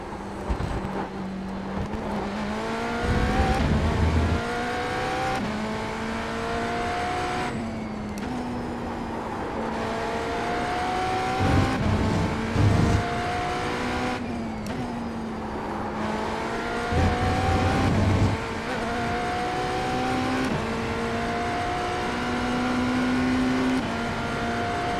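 Race cars scream around Monza in iRacing, with the engine droning loudly and steadily and revs climbing and dropping through repeated upshifts and braking downshifts, with no voices.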